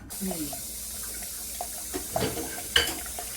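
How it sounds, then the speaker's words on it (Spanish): Water trickles and splashes in short, uneven bursts as it drains from a freshly opened coconut, fairly faint and close, with brief louder spurts near the end. "Abriéndole los ojos al coco para sacarle el agua"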